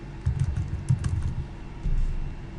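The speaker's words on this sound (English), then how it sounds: "And then we type the name." Computer keyboard typing while entering a name during a Firebase web app setup: quick, close bursts of clicking key presses that come in uneven clusters, with no one speaking.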